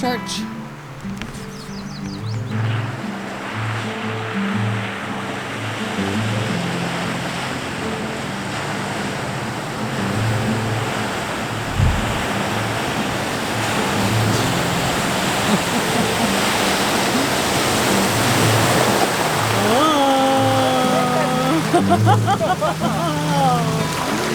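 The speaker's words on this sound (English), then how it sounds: "This will now be the deepest crossing we forded" An overland vehicle fords a deep water crossing on the Telkwa Pass trail in northern Canada. Loud, continuous rushing and sloshing water grows stronger midway, with people talking over it.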